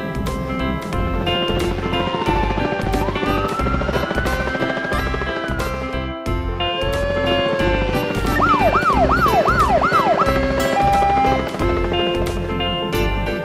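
An air ambulance siren rings out over a steady rotor and engine drone, moving through slow rising wails, a burst of fast yelping cycles and short held tones, loud throughout.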